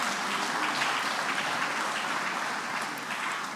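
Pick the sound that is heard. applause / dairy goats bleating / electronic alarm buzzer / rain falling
applause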